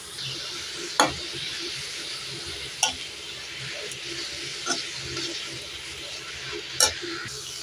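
Shredded cabbage and carrots sauté in a pan with a soft, steady sizzle, punctuated by a few sharp spatula knocks against the pan, fairly quiet and with no talking.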